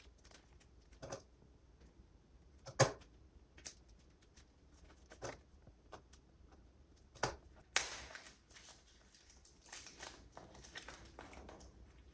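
Sharp snipping of scissors cutting a Xiaomi 12 Lite phone box's packaging at irregular intervals, followed by rustling and crinkling of packaging material, fairly close and quiet.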